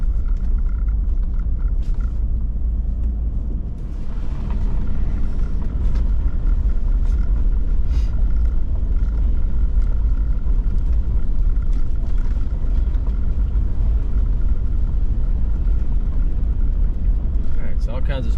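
A truck rolls slowly through a campground, a loud, steady low rumble of engine and tires that continues unbroken, with a person talking over it much of the time.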